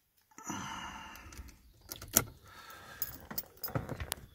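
Keys jingle and rattle close by, with a few sharp metallic clicks as a key slides into the ignition of a Jaguar 4.2 car.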